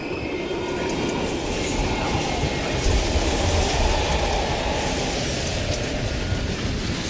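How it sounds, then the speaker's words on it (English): A train passes through an abandoned East German station in the video game Call of Duty: Black Ops Cold War, a loud continuous rumbling roar with rattling wheels and a swell in the middle, filling the scene with no voices. "We can use a train to slip past."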